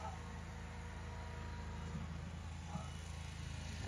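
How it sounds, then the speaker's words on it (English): A lawn mower runs far off on a golf course on an early morning, a faint steady engine drone holding through the whole stretch, with light background noise and no close sounds over it. "That noise you hear is the mower on the golf course."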